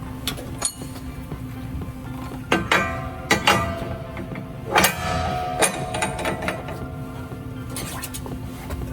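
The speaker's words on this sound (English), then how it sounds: "There's just a little Allen wrench to set it in place. You tighten it, you back it off just a hair, and you cinch it down." An Allen wrench tightens a saw blade into place on a Schelling FM8 panel saw, giving small metallic clinks and ratcheting clicks over a steady machine hum.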